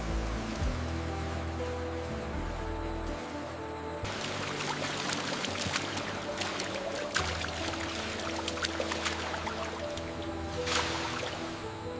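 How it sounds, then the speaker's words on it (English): Coconut water runs and drips steadily through filtration tanks and multi-layer mesh in a modern coconut factory, a continuous liquid trickle over a steady mechanical hum. "The water enters these tanks, passing through multi-layer mesh until it achieves perfect clarity."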